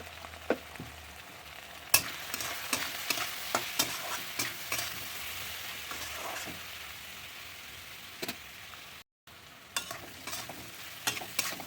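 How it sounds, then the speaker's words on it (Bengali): Green chili, salt and turmeric fry in hot oil for a fish-head and cabbage dish, with a steady sizzle and repeated sharp scrapes and clacks of stirring throughout, loud and close, with no voices. "মশলাটা হয়ে গেছে কষানো, তেল ছেড়ে দিয়েছে।"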